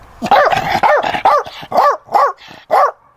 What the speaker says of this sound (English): you'll start to see things like a growl and vocalisation